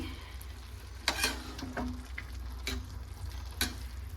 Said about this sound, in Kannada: ಮೊಸರು ಹಾಕೊಂಡ ನಂತರ ನಾನು ನೀಟಾಗಿ ಮಿಕ್ಸ್ ಮಾಡ್ಕೊಳ್ತಾ ಇದ್ದೀನಿ